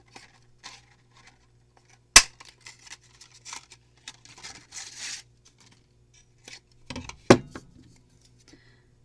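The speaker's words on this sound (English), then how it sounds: "let's do an oval and cut it in half and see what we get" Scissors snip through paper to halve a cut-out oval for punch-art animal crafts, with sparse close crisp cuts and soft paper rustles separated by quiet gaps, plus two sharp louder clacks.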